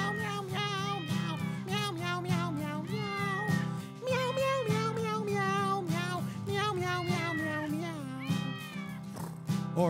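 Cat-like meows rise and fall repeatedly through a busy, loud children's song for the Tu Bishvat holiday, with singing and instruments playing continuously underneath.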